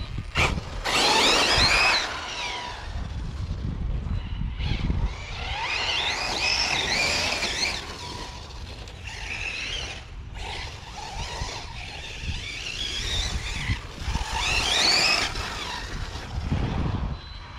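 An Arrma Typhon 6s electric RC car accelerates in repeated bursts, its motor whining and rising in pitch as it speeds off and returns, with tire and chassis noise between runs and no talking.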